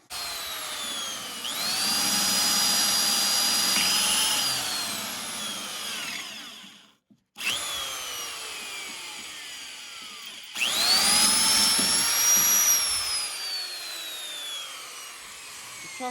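A small electric drill, about sixty-odd years old with a worn chuck and no reverse, runs during repair of a homemade ATV bumper. Its loud whining motor sounds in three bursts, with a short pause midway and no talking.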